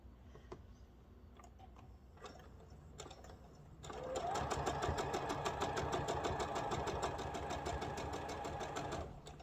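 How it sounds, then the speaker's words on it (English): A sewing machine stitches quilt pieces together, first with a few light ticks and clicks, then a steady close whirring run of rapid needle strokes lasting several seconds before it stops. "Let me just sew this."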